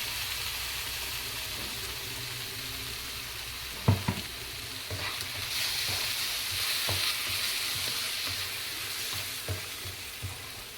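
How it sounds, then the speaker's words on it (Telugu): Masala paste of tomato, fried onion and yogurt frying in oil for kadai chicken, a steady soft sizzle with a few sharp stirring scrapes and knocks of a spoon against the pan. "ఇదంతా నూనె తేలే వరకు ఫ్రై అవ్వాలి"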